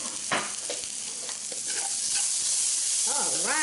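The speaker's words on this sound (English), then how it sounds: "So I'm going to add the habaneras and let those cook down." Habanero peppers sizzle and hiss in a frying pan as they are stirred into an ackee rundown, a steady close crackle with spoon scrapes, and a voice joins briefly near the end.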